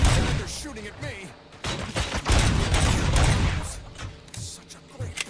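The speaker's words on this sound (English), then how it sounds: "They're shooting at me." Enemies firing on the player in the game Robocop Rogue City, a clatter of gunshots and impacts that rises and falls, loud at times, mixed with speech and other game noise.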